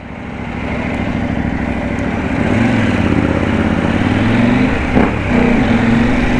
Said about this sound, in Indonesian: Kalau kalian dengar suara knalpotnya nih, gue buka sedikit biar kalian bisa dengar.